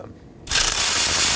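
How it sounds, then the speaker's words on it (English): A ratchet wrench spinning 22mm caliper bracket bolts loose on a 2015-2023 Nissan Maxima front brake, a fast, close, steady clicking whir that starts abruptly after a brief quiet moment. "We're also going to remove our two caliper bracket bolts."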